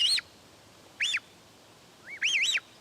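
A handmade bird-call whistle, its thick outer end cupped in the fingers to amplify it, sounds three times: two short warbling tweets, then a longer wavering chirp, clear and close with no talking.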